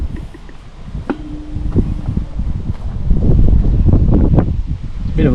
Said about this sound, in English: Bit of a windy day today